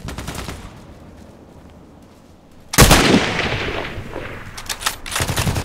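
A Mosin-Nagant sniper rifle fires a single loud, sharp shot in the Contract Wars game, followed by a decaying echo and clicking reload sounds.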